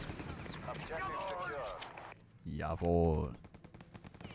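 Gunfire in a Return to Castle Wolfenstein LAN match: bursts of shots sit under excited commentator talk, with a quick run of rapid shots near the end.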